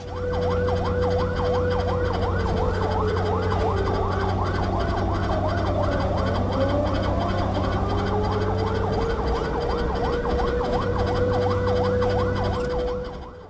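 An ambulance rushing a critically ill patient from a private hospital in Kasaragod toward Kanhangad district hospital sounds its siren in a loud, continuous wail that rises and falls, close by, over low road and engine rumble.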